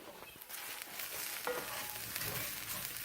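Brussels sprouts and rice sizzle in a hot pan as they are stirred, with a steady close frying hiss and a few soft scraping movements throughout.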